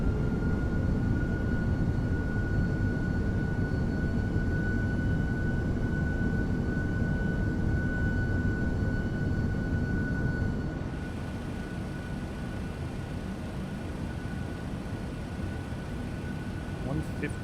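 McDonnell Douglas MD-11 jet engines at level off in the TFDi flight simulator, a steady broadband roar with a thin whine above it, easing slightly in level partway through and continuing evenly.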